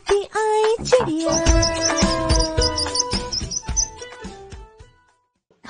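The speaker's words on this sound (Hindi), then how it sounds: "चू चू करती आई चिड़िया।" A bird chirping in a children's Hindi rhyme, bright quick tweets and whistled calls in a busy musical passage that fades out near the end.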